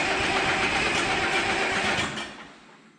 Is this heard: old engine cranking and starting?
yes